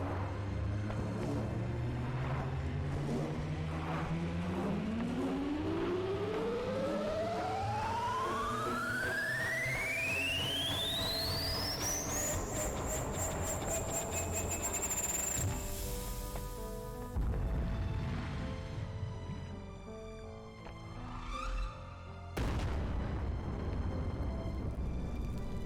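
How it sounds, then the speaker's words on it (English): Explosion in the laboratory level of the game Human Fall Flat: a long electronic tone sweeps steadily upward to a high whine over layered music, then gives way to a loud, broad, rumbling burst followed by a second, shorter blast. "Nice big old bright explosion."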